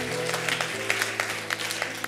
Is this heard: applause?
yes